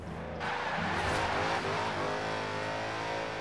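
Car engine in a racing video game revving under throttle, a steady, loud, continuous drone with rising pitch and a brief tire-skid hiss, heard alone.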